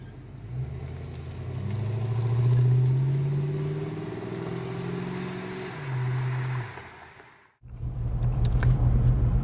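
A 1988 Ford Mustang GT convertible's engine rumbles steadily and climbs as the car pulls away and accelerates, drops briefly to near silence, then comes back in with a strong, close drone.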